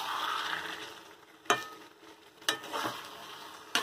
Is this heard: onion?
yes